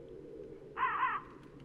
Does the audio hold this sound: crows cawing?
yes